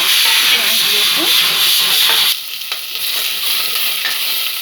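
Onions frying in a kadai for an Assamese-style arhar dal curry, a loud close hiss and sizzle with stirring scrapes that drops in intensity halfway through, then continues more softly.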